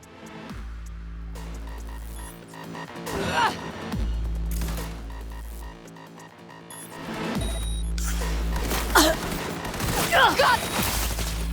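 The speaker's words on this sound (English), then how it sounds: "Heard shots." Bursts of gunfire in the video game Cyberpunk 2077, several rapid volleys and sharp shots separated by brief pauses, loud and close over a low droning game soundtrack.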